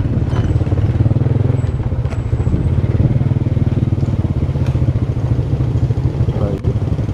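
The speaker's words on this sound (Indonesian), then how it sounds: "Bapak Ketua Dekornas dibonceng motor menyeberang sungai. Jalannya yang berbatu-batu," A motorcycle carrying a passenger drones steadily up close while crossing a rocky river, with rattling and clattering over the rough, stony riverbed throughout.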